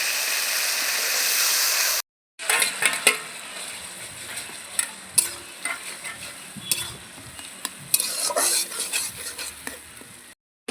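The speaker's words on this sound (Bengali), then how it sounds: "ভালো করে কষিয়ে নেব, তাহলে ভালো করে কষাবো" Spinach and paneer sauté in a pan with a soft steady sizzle while a spatula scrapes and taps the pan in irregular close strokes, after a brief louder hiss that cuts off.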